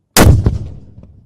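One booming cannon blast from a ceremonial gun salute at the King Charles III royal proclamation ceremony, loud and sharp with a long echoing decay outdoors.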